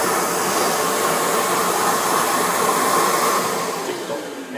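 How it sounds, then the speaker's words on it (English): A Makita vacuum runs steadily at close range with a loud, even broadband whoosh, holding constant for the whole stretch and easing slightly near the end. "And the vacuum is running."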